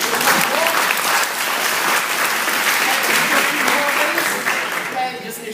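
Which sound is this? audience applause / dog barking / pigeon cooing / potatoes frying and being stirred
audience applause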